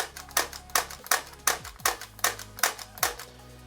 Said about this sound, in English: I'll show you guys a little clicking action right here.